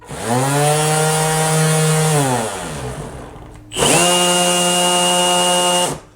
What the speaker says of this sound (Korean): 5단 같은 경우는 이 샌딩 속도가 굉장히 빠르다는 거죠